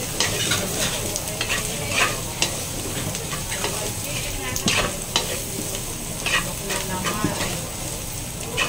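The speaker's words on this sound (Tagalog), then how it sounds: "Haluin lang uli po natin." Sisig of chicken liver and gizzard being stirred in a pan with white sugar, a steady close scraping and stirring over continuous sizzling with intermittent clinks of the utensil.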